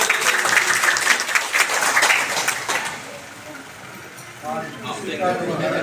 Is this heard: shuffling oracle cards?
no